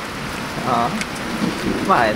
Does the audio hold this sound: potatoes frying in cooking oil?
no